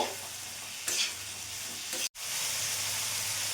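Chicken mince with chopped tomato stir-fries in a pan, a steady close sizzle broken by brief scraping stirs and one short dropout partway through, with no speech.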